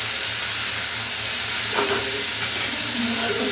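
Green chilies frying in a hot pan, a bright continuous sizzle and hiss close by with a low hum underneath, steady throughout.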